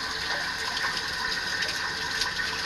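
Water gushes steadily into a pressure-switch-controlled filter system after the supply is turned back on, a continuous loud rushing flow with no pauses.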